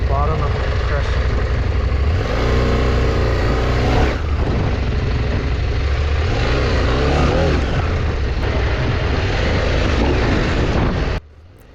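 A 2021 KTM 890 Adventure R motorcycle engine runs and revs during an off-road riding clinic, a continuous loud engine drone with rising and falling pitch sweeps, cutting off abruptly near the end.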